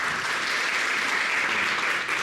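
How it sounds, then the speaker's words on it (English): A convention audience applauds the NATS secretary at a committee announcement event, a brief, steady burst of many hands clapping at moderate volume with no voices over it. "please give him a big round of applause"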